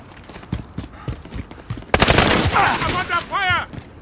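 Gunfire in Call of Duty Modern Warfare: scattered soft shots break into a dense, rapid burst of loud automatic fire, with a voice speaking over and around it.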